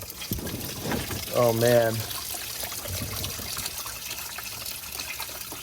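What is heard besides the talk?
coolant draining from BMW E39 M5 during coolant flush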